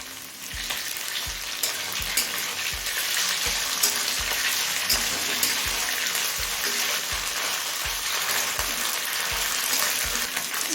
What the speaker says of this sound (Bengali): তেলটা হাই ফ্লেমে গরম করে নিয়েছি এবার চিকেনগুলো ভেজে নেব